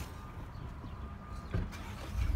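A 2017 Ford Raptor truck idles nearby, a faint, steady low engine rumble that swells briefly near the end, with no talk.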